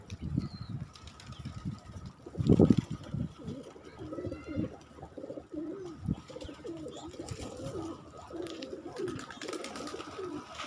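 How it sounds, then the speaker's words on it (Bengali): Many colourful pigeons coo in soft, low repeated phrases close by, with occasional wing flaps and faint background chatter. "কবুতর আছে অনেকগুলা"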